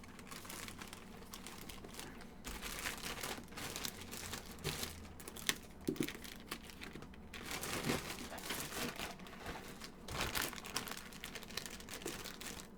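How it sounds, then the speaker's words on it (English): A Supreme item in the moss colorway is pushed back into crinkly plastic packaging, making soft, sporadic crinkling and rustling with a few sharper crackles. "we're gonna throw this back in the packaging all nicely"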